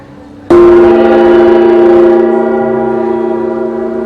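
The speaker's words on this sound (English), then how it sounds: "put it in the Venus prosperity gong, and play the Tibetan." A Venus prosperity gong at a healing centre is struck once, ringing out loud and bright, then sustaining a long shimmering hum that slowly fades.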